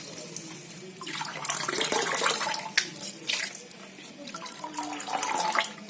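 Almonds being rinsed in a strainer set over a bowl under a running tap: a steady, close splash of water with fluctuating gushes and drips, no voices.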